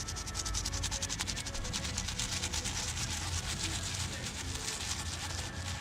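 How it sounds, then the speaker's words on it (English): A brush agitates Goo Gone on a Mickey Thompson ET Front tire to strip tire paint, making rapid, rhythmic close-up bristle scrubbing strokes that run steadily throughout without speech. "So now I'm gonna just take this piece of crap brush again, agitate it some more."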